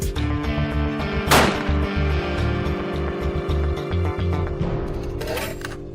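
A hunting rifle is test-fired outdoors in the early morning ahead of a crocodile hunt, giving one sharp, loud shot over a low, steady background hum.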